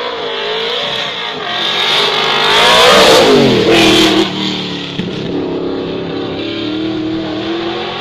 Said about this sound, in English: Rover V8, I'm guessing.